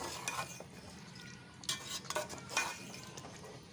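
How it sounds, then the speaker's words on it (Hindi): A spoon stirs beef with spices in a pot for a beef and calabash curry. Soft scraping and a few light metal clinks come over a faint low sizzle, quiet and close, with no voice. "हम सारा मिक्स करते जा रहे हैं और इस तरह इसको थोड़ा सा भून लेंगे"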